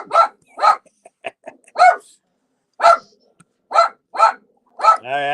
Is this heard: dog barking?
yes